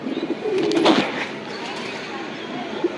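A tournament racing pigeon gives one low rolling coo early on, followed later by a short faint coo, near and against light background noise.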